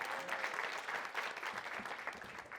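A crowd at a University Innovation Fellows meetup in Silicon Valley applauds itself, a dense, even wash of clapping held at one level for a couple of seconds, fairly distant and soft.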